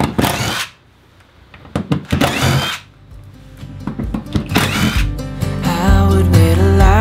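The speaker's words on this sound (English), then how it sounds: "I'm literally using just a normal drill that has like no impact or anything" A plain electric drill with no impact function, used while converting a short bus, whirs in several bursts separated by brief pauses, fairly close and loud, with shop noise around it.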